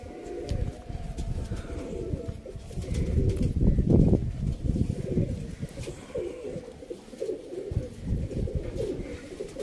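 Teddy pigeons coo in a loft in Sialkot, with soft repeated low coos over a busy backdrop of other birds, wing flutters and shuffling, continuous and close.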